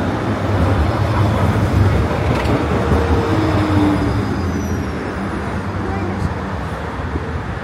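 A number 17 tram pulls into a stop in Warsaw, a loud continuous rail rumble and rolling clatter close by, with traffic noise and voices around it.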